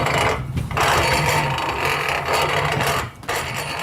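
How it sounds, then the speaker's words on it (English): A grinding mill for bean pods running empty, metal grinding on metal with no pods fed through, giving a continuous rough mechanical whirr up close that briefly dips twice before carrying on. "You hear that mill turning freely metal on metal?"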